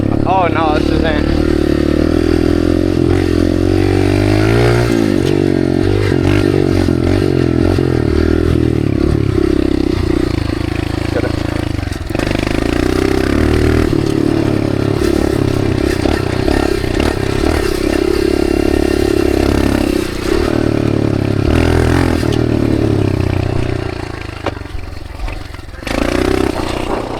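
A dirt bike rides across desert terrain, its engine roaring loud and continuous with constant rattle and wind noise, the pitch shifting as the rider accelerates and eases off.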